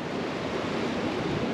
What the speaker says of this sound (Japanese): いやさっきね一回嵐になりましたんで波がめちゃくちゃ高くなりましたね